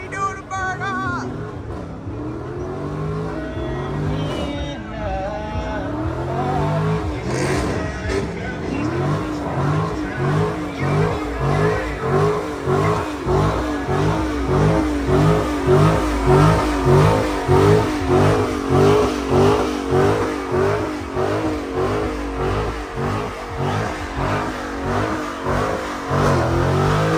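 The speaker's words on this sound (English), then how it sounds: "Oh, he doing a burnout." A car doing a burnout at a Mopar meet in Orlando, engine revving hard in a steady pulsing rhythm that builds and holds loud for a long stretch, with people talking and shouting over it.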